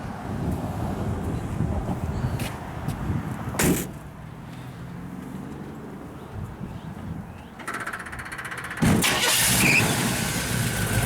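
A 1956 Chevrolet 210 Bel Air starts up nearby, with a burst of cranking and catching near the four-second mark and again around nine seconds, then settles into a steady idle. No one talks.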